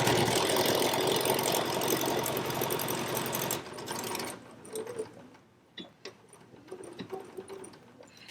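A sewing machine runs loud and continuous through a short backstitch and seam on small face mask pieces, then stops after about four seconds, leaving soft scattered clicks and fabric handling.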